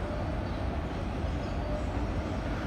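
Freight train with a distributed power unit locomotive passing nearby, a continuous broadband rolling roar held steady and fairly quiet from start to end.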